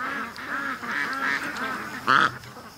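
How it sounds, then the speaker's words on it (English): Muscovy ducks quack near water, a run of nasal calls in steady rhythm followed by one louder, harsher burst near the end, close by and with no talk. "we got Muscovies behind us"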